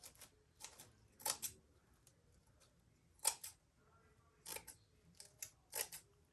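Scissors cutting decorative mesh for a Mardi Gras centerpiece give short crisp snips, single and in quick pairs, spaced irregularly over a few seconds, close and fairly faint in a quiet room.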